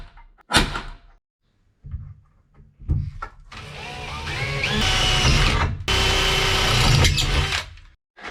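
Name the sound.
drilling holes with a power drill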